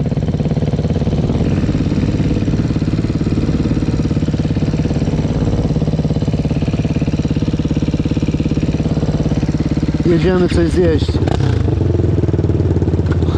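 A Suzuki LTR quad idles with an aftermarket exhaust, a loud, close, rapid throbbing drone that holds steady throughout, while someone speaks briefly near the end.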